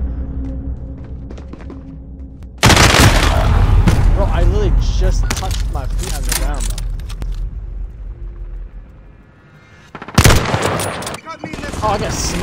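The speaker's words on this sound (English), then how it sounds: "Oh, I got sniped, that's what killed me." Gunfire in Call of Duty: Warzone, including a sniper rifle shot, with loud sharp blasts at around 2.7 and 10 seconds over a steady game rumble and vehicle drone, while players talk.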